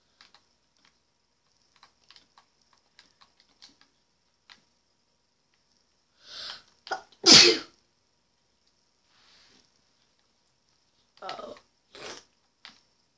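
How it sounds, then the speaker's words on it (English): A single loud, sharp sneeze in Minecraft preceded by a brief inhaling build-up, surrounded by faint scattered clicks and a few softer vocal sounds afterward. "Oh, there's another sneeze coming."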